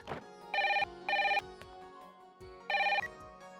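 A telephone bell ringing indoors in three loud, bright trilling bursts with short gaps between them, over a quiet background.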